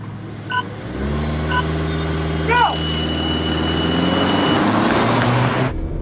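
A slow car launching in a goofy drag race revs with a steady low engine drone that climbs gently in pitch, loud and continuous throughout, with brief talk over it and a rising whine near the middle.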